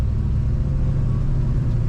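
A 1966 Ford Mustang engine idles close by in a steady, deep low rumble with a slight uneven throb, continuous and loud throughout.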